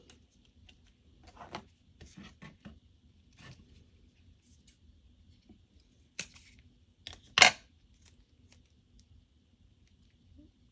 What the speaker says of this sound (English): I'm using my yellowed 3M foam strips and using a non-stick scissors for this